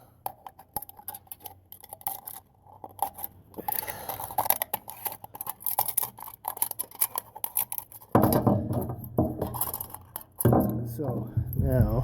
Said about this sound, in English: Now I'm going to use a regular pair of scissors.